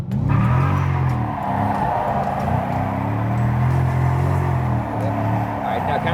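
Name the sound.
car engine revving while drifting in tight donuts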